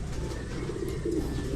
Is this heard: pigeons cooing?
yes